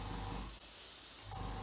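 An airbrush gives a short test burst of paint while detailing an Airfix Hawker Hurricane Mk.1 Tropical model kit with Humbrol paint: a steady close hiss that breaks off briefly in the middle and then resumes, with no talking.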